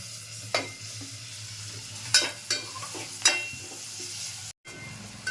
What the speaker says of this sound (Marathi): कांदा मऊ झाला आहे टोमॅटो टाकते